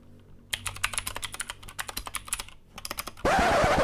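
Rapid typing on a custom Anne Pro 2 keyboard with a resin case and thick XDA keycaps: a close, crisp run of clacky keystrokes in uneven bursts, then a sudden burst of broadband noise at the end.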